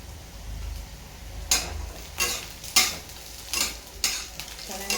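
Garlic frying in a pan gives a low, steady sizzle, broken by five sharp, spluttering pops at roughly regular intervals, each one loud and close before it fades back into the hiss.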